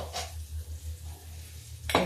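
In a home kitchen, a cooking pot of finished vegetable dish is lifted off the stove and set down with a short metallic clatter at the start and a sharper clunk at the end, over a low steady hum.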